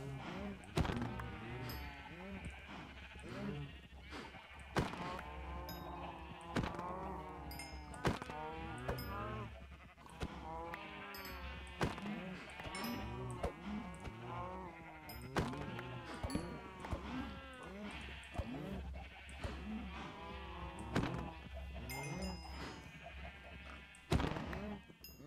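Sheep bleating in a video game: many wavering bleats overlap continuously and fairly close, forming a steady flock chorus throughout.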